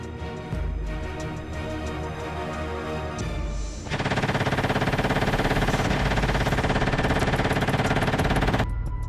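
The Slinger remote weapon system, a lightweight stabilized mount, firing rounds in rapid succession: a dense, loud stream of fast repeating shots that grows even heavier partway through before stopping abruptly.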